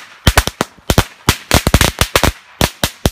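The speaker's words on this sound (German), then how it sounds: "Die 40er Knallkette von Audi. So, die brennt ziemlich schnell ab" A 40-shot firecracker chain bursts at New Year's Eve, a rapid string of sharp, loud bangs crackling in an irregular burst, close by, with barely a pause between the pops.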